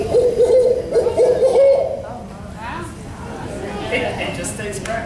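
A man imitates an owl's hoot with his voice at an owl prowl event, giving a short series of steady tonal hoots in the first two seconds, followed by quieter chatter and voices from a small group outdoors.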